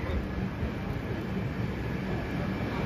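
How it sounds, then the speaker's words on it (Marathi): A train arrives at a station platform in Shegaon, a continuous rumbling roar of wheels and cars rolling past, loud and steady with faint voices underneath. "तर आता आपली ट्रेन आलेली आहे."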